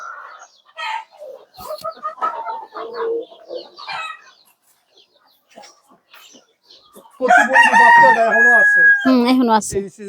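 Laying hens cluck softly in a poultry farm, then a rooster crows loudly and close by, with people's voices talking in the background.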